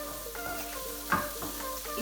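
Fried rice sizzling and being stirred in a pan over lowered heat, a steady soft frying hiss with occasional scraping stirs and one brief louder clatter.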